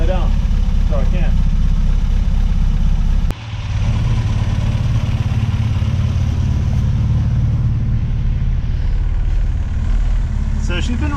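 Steady low rumble of a car engine idling as it warms up with a failing water pump and overheating issue, continuous and close, with a brief dip partway through and light background noise.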